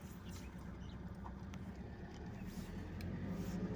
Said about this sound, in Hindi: इसमें नॉइज़ आ रही है गाड़ी में